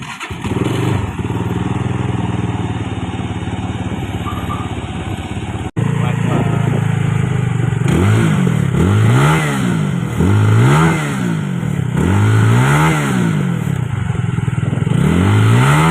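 A Benelli TRK 251 adventure touring motorcycle idles steadily up close, then gets a run of sharp throttle blips, each rev rising and falling in a regular rhythm of about five bursts.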